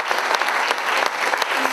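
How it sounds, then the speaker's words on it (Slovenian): Warm applause from a theatre audience for the jury at the closing ceremony of the 50th Linhart theatre festival, dense steady clapping heard close and alone for a short burst. "Torej, en lep aplavz za Dragico Potočnjak, Tomaža Bubenška in Toneta Partliča."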